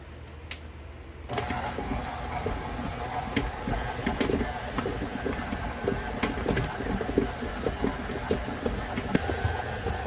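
A stand mixer kneads French baguette dough, starting with a brief quiet moment before a steady mechanical whir and hum sets in, with faint rhythmic thumps and knocks recurring throughout, close and continuous.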